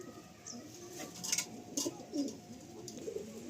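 Pigeons bred for summer flying cooing inside a loft, several soft, low coos repeating at intervals over faint background ambience, with a few brief chirps, no voices.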